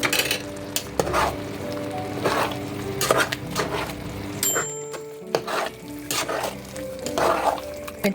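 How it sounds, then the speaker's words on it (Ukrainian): Mushrooms and cabbage sizzle in a pot as a spoon stirs and scrapes against the metal in repeated strokes, with occasional clinks, close and fairly loud. "Усе гарненько перемішуємо."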